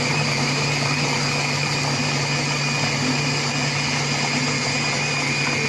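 A Compact Cook Pro food processor chopping pomelo jam at speed 6, a steady, loud motor whir with a constant hum, running unbroken and close.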